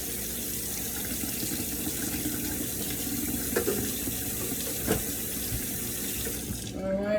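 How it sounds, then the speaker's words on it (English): Cold kitchen tap water runs steadily into the sink while dishes are rinsed of suds, a continuous close splashing rush with a few brief knocks, then it cuts off at the end. "And see, I'm rinsing this with cold water."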